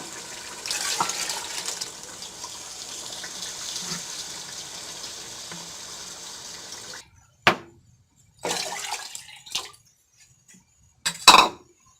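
Water pours steadily into a cooking pot of boiled chickpeas for several seconds, then stops, followed by a few brief splashes and clinks nearby.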